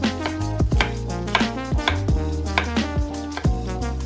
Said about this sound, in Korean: 양파를 잘라주세요.